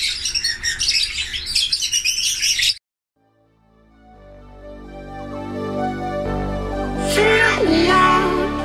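A sick pet bird chirps and squawks in short bursts, loud and close at first, then falls silent before music fades in, with more chirps rising over the music near the end.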